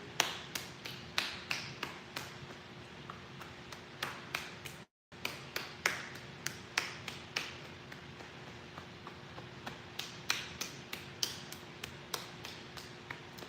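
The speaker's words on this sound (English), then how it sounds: "So here we're tapping up and down the muscle." Fingers tap up and down the arm muscles in a qigong self-massage, a steady series of crisp, close slaps at a brisk regular rhythm, briefly interrupted once, with no talking.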